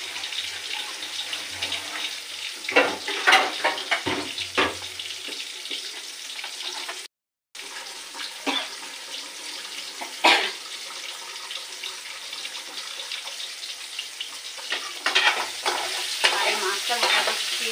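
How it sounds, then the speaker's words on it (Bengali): Prawns fry in hot mustard oil with a steady close sizzle, broken by bursts of crackling and scraping stirs, then a brief dropout before the hiss carries on. "মাছটা ভাজা করছি"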